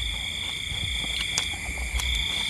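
Crickets chirp behind a rural Thai house, a steady shrill drone that continues without break at moderate loudness, with no talking.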